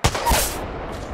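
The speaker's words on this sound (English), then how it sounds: "Getting shot at." Gunfire in the battle-royale game Apex Legends: a sharp close burst of shots at the start, then a second hit and a decaying rumble under no talk, all within about a second.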